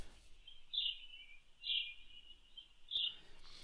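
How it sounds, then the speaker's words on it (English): Outdoor birds among trees play through a Foscam E1 camera's small speaker, three short bright chirping phrases spaced about a second apart over a quiet background. "So here you're starting to hear the birds that we have in the outside because we have a lot of trees."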